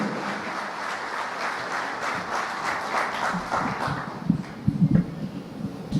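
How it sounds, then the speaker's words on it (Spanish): A conference audience gives a speaker a broad wash of steady applause at moderate loudness, thinning toward the end as a few louder claps and some low voices come through. "Con el aplauso de cada uno de ustedes, recibimos a nuestra conferencista"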